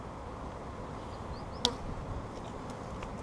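Honeybees buzz around an opened beehive during a spring inspection, a continuous close hum with a sharp click partway through.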